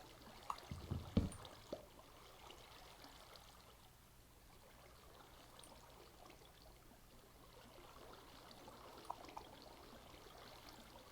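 Water in a Minecraft Infinity SkyBlock modpack world flows as steady streams, a faint continuous trickling wash with a few small clicks near the start.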